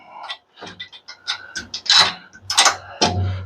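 Metal bolts are fitted into the handle of a power outage backup system, giving close, scattered clicks, taps and scraping handling noises in uneven bursts.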